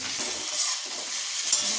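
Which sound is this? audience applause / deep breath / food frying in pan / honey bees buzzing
food frying in pan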